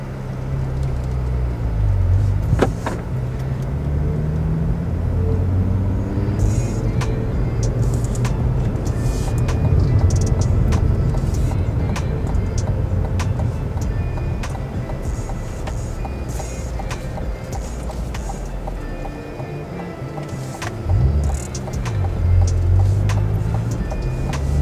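A 2022 Cadillac CT4-V Blackwing drives on a public street, its steady low engine rumble and road noise running throughout with faint intermittent beeps on top and no one talking.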